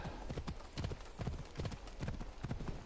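A horse's hooves clip-clop in a video game, a steady close trotting rhythm of clear hoofbeats that carries on throughout.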